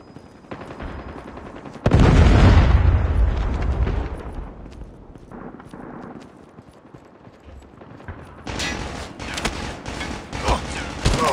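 A Predator missile strike explodes in Call of Duty Mobile with a loud, deep blast that rumbles away, followed by scattered gunfire and further battle noise.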